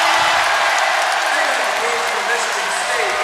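A basketball arena crowd rises in a loud standing ovation at a Hillsdale College versus Michigan State men's game, sustained dense applause and cheering with a commentator talking over it.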